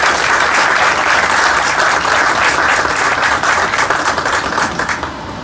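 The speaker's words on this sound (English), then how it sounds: "If you all please join me an applause to him" An audience at a book launch for a bilingual Spanish-Hindi edition of an Inca-era play applauds loudly and continuously, a thick crowd of clapping hands that holds steady before tapering off at the end.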